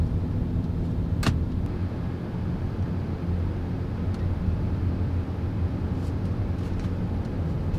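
BMW 335i driving in fifth gear with a suspected transmission surge, a steady low engine and road drone continuing throughout, with one brief click near the start.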